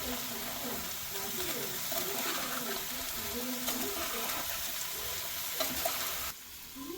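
Poha and boondi upma stirred in a pan with turmeric just added: a steady soft sizzle with scraping, swishing strokes of a spoon mixing the ingredients, close and continuous before a brief drop at the end.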